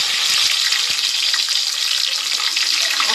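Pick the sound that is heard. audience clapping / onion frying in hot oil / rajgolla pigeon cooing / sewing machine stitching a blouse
onion frying in hot oil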